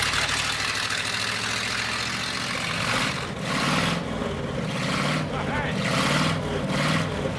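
A vintage V8 engine that had not run for a long time rumbles steadily at idle, loud and close, with pulsing surges in its note and voices talking over it.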